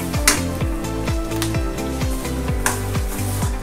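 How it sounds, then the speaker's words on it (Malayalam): Grated coconut roasts and sizzles in a pan for Kerala-style chicken neck curry, a steady close frying hiss with repeated stirring scrapes and clinks, no talk. "നമ്മുടെ തേങ്ങ നന്നായി മൂത്ത് വരുന്നുണ്ട്."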